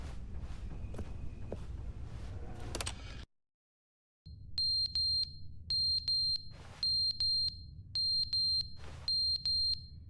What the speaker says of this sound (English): Fucking smoke alarm, dude.